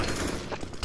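AK rifle gunfire in the video game CS:GO, a short dense burst of shots packed into under a second, loud and close.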